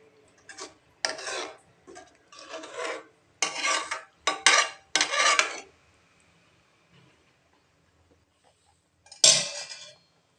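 Semolina (rava) milk payasam being stirred in a pot as it boils, a spoon scraping the bottom in several short bursts of rasping strokes, then a pause of near silence before one last scrape.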